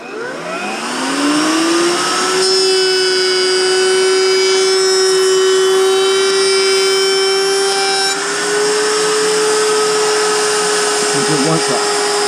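A router bit spins up and makes a first cut into an oak board for a shiplap wall, a loud steady high motor whine running the whole time with no dust extraction running, then settling slightly toward the end.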